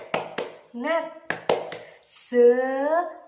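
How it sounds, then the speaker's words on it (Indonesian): Children in an Indonesian classroom perform a rhythmic spirit clap, sharp hand claps in quick pairs alternating with chanted group voices, close and lively. "Ayo bersama-sama tepuk semangat."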